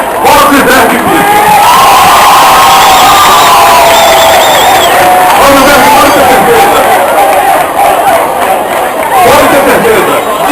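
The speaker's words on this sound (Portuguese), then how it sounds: "para quem eu pediria uma salva de palmas" Crowd cheering and whooping at the opening of a school games event in Bahia, loud and continuous, with voices shouting over a dense wash of noise throughout.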